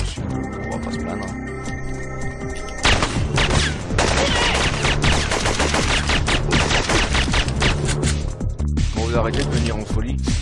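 Suppressed weapon fire in a video game, rapid muffled shots layered over dense game noise and music that runs steadily throughout, sharper and busier after the first few seconds.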